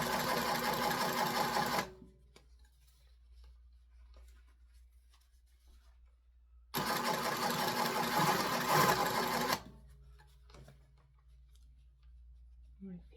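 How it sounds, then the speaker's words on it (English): A Jiasew sewing machine stitches a hem on jean fabric in two steady, close bursts of rapid mechanical whirring, separated by a quiet pause with faint handling noises. "I'll take a few stitches so I can let go of that"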